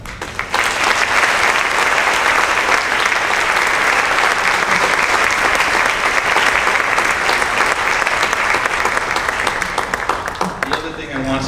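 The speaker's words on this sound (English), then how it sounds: "You can clap for that" Loud, dense audience clapping at a celebration event fills the room for about ten seconds, a continuous wash of many hands, then tapers off abruptly as a voice begins speaking at the very end.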